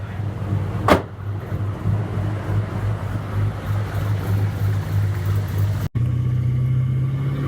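A 2006 GTO with a newly replaced clutch drives along, giving a steady low engine and road rumble heard from inside the car, with one sharp knock early on and a brief dropout near the end.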